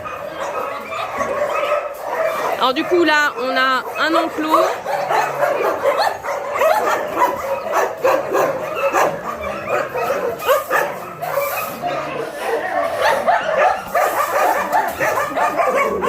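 Several dogs bark and yip continuously in a noisy, echoing space at a dog shelter in Bečej, Serbia, with a brief voice speaking early on.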